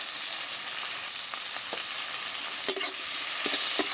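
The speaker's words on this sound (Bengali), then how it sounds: "দিয়ে একটু নেড়ে চেড়ে কষে নেবো" Tomatoes with salt and turmeric powder sizzle in a pan for a Bengali tangra fish curry, a steady soft frying hiss broken by a few scraping stirs of a spatula toward the end.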